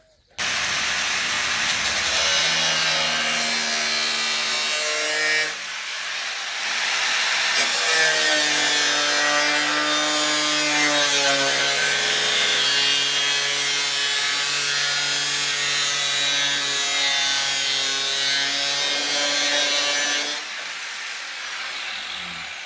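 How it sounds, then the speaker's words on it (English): An angle grinder cuts through a length of zinc gutter in steady, loud, near passes with whining harmonic tones, pausing briefly before resuming for a long continuous cut. "So I'll get the grinder and we'll cut this bit out"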